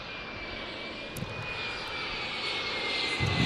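A Southwest Airlines Boeing 737 MAX 8 jet roars steadily overhead near San Diego's airport, a broad engine rumble and hiss that swells slightly louder toward the end, with no other sounds.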